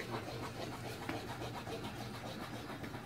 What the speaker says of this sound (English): gridded sandpaper that allows the wax to fall through